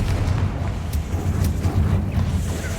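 Confringo fire spell explosions in the Hogwarts Legacy video game make a loud, continuous rumbling roar, with heavy low booms rolling one into another for the whole stretch and no talking.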